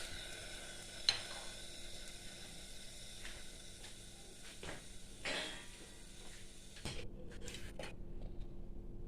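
Mutton pieces going into a pot of water for soup give a brief clatter and splash, followed by gentle hissing and scattered clinks of pot and utensil, with no talking.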